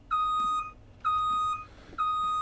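Door warning beeps in Farming Simulator 19, three evenly spaced high electronic tones, each held about half a second, clear and alone.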